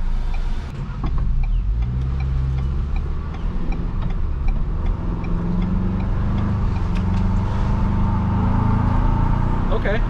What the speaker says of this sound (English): I mean, that was a quarter throttle and this thing moves.